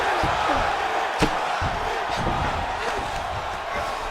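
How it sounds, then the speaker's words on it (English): A virtual arena crowd at a UFC 5 video game fight roars in a steady, dense wall of cheering, with scattered shouts and a single sharp thump partway through, and faint voices mixed in. "crowd absolutely loving it as the fighters, however compromised, make their way back to the feet"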